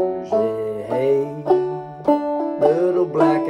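Clawhammer banjo in D tuning plays the chorus of the old-time tune Black Eyed Susie, with bright plucked notes struck in a steady rhythmic pattern, up close and with no voices.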